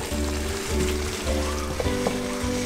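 Food frying in a pan during jollof rice cooking, a continuous close sizzle with a low rhythmic scraping of stirring and a few crackling pops.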